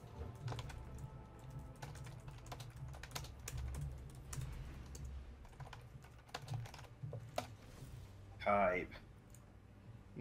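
Computer keyboard typing during a Destiny 2 co-op session, quiet scattered clicks and key taps in irregular bursts over a low background hum, with a brief voice rising near the end.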